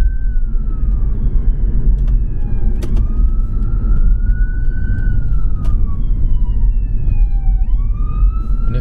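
An ambulance siren sweeps slowly up and down in pitch over constant traffic rumble, passing fairly close, with brief clicks and knocks along the way.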